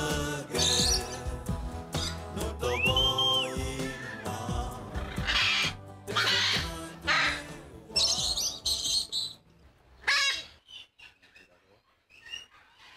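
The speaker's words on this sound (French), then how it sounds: "Chaque perroquet a sa propre voix, mais le plus important est de faire beaucoup de bruit." Loud, harsh parrot calls and squawks come in bursts, mixed with rising whistles and chattering, close by and noisy throughout.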